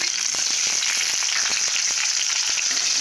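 Chopped tomatoes fry in mustard oil in a pan, a loud, continuous crackling sizzle with scattered pops and faint stirring scrapes.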